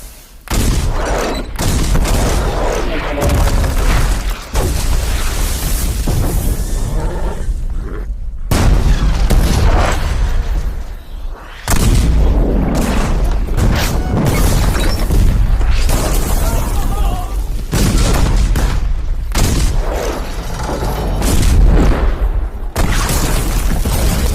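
Heavy cannon blasts roll continuously for over twenty seconds, loud and dense like an artillery barrage against a fort gate, with brief gaps and shouting voices mixed in.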